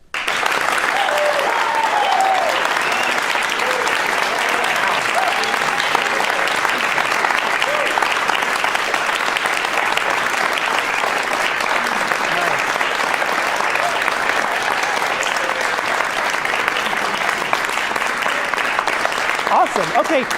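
A conference crowd at NTC 2023 claps and cheers loudly and steadily for the full stretch, a dense unbroken wall of hand claps with whoops mixed in and no pause.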